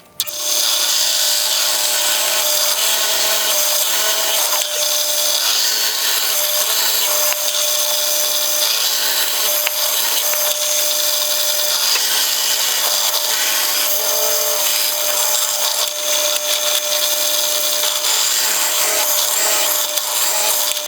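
A power saw cuts steadily through a wooden shelf piece in a workshop, making a loud, continuous grinding whine with a rough rasp that holds for about twenty seconds without a break.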